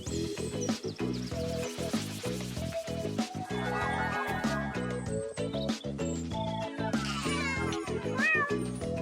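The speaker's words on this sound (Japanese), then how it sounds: "魚は猫にあげよう。" A cartoon cat meows in an educational children's animation, several close, clear meows over a bright musical backing with steady rhythmic notes and sparkly effects.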